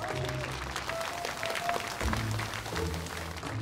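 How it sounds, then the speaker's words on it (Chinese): Warm applause at a wedding ceremony greets the groom's entrance, a moderate crowd clapping steadily with a soft undertone of music and murmuring voices beneath. "好，接下来让我们用热情的掌声有请我们的新郎登场"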